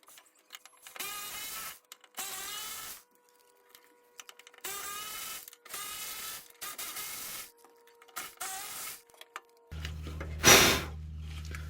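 An 8mm bolt being wrenched out of the fuel tank of a 2002 Ford F-150 during a fuel pump replacement: six or seven loud whirring, rattling bursts of about a second each, close by, with brief pauses between them.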